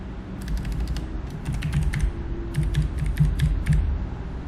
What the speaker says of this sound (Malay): so saya masukkan password saya sekarang